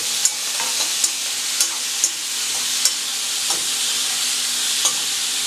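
Onion, tomato and curry leaves frying in a pan with a constant close sizzle, punctuated by regular scraping taps of stirring.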